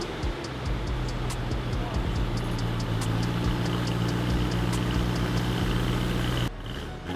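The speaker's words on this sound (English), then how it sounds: "Give it a cold start." A BMW E90 M3 engine idling just after a cold start with a new exhaust and worn muffler hangers, a steady low rumble with regular ticking, then cutting off near the end.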